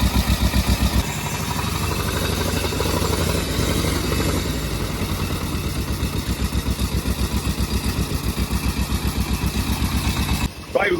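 A 1903 veteran car engine runs at a steady idle with its ignition advanced, giving a close, loud, rhythmic chugging and clatter that stops briefly near the end.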